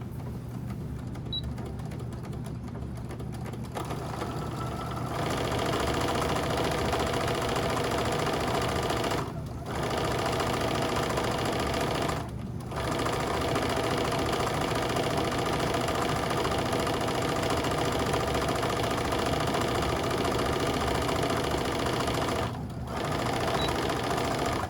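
Sewing machine stitching down the long side of scrunchie fabric, a continuous close mechanical whir with a steady rapid rhythm and a few brief pauses, no talking.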